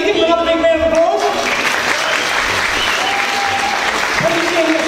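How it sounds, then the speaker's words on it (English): Big round of audience applause at a live magic show, loud dense clapping throughout with a voice talking over it at the start and end. "Give him another big round of applause."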